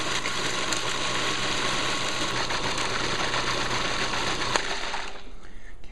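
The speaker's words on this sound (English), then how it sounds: "I'm going to put this in here, and then I'm going to chop it up till it's kind of like a liquid thing." A food processor or blender whirs loudly and steadily as it chops dried chili into a puree for chicken korma. The motor drone is close and continuous and stops near the end.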